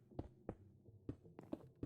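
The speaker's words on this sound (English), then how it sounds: "Heartbeat." A heartbeat from Minecraft thumps in slow, evenly spaced double pulses, soft and low, with a faint hum underneath and no talking.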